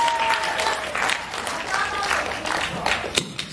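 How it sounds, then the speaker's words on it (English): A school audience at a middle school science show applauds steadily, dense clapping filling the whole stretch at a fairly loud, even level with no voices standing out. "Everyone give Miss Sarah a round of applause for being out today"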